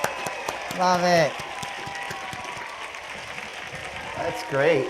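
Audience applauding after a Lowrey Liberty Gold Star organ showcase performance, a steady wash of clapping under sustained organ tones, with someone talking over it near the start and end.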